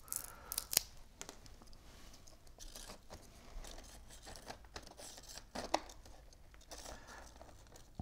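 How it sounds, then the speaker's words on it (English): Short snips and crinkling rustles as material is trimmed for a vase arrangement, a series of close, irregular cuts and handling noises with no talking. "I need to trim this a little more."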